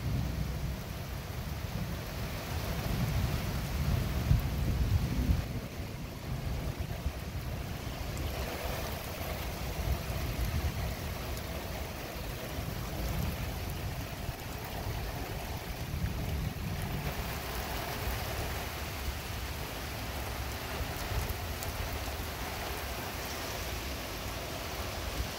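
A little thunderstorm rolls through with heavy rain, giving a dense, continuous wash of rainfall under deep low rumbling that swells and eases across the whole stretch, with no voices.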